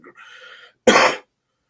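A soft breathy sound is followed by one sharp, harsh cough, close and brief, then silence.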